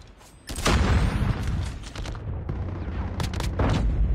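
Rapid bursts of loud gunfire and booming shots from the shooter game Call of Duty Mobile, close up, with a couple of sharp volleys separated by brief lulls.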